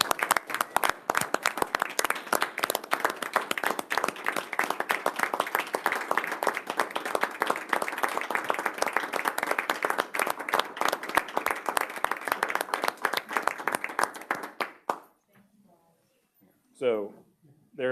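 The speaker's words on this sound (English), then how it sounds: "maybe just give these folks a round of applause" An audience at a school board meeting gives a round of applause to honour two people. Steady, dense clapping fills the room for about fifteen seconds, then fades, and a brief voice follows.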